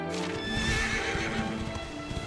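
A horse in the video game Dragon Quest XI gallops with steady rapid hoofbeats and a whinny over a constant layer of game music.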